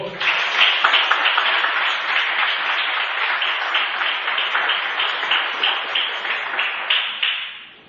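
A church congregation breaks into sustained, dense applause in praise, loud and steady throughout before tapering off at the end.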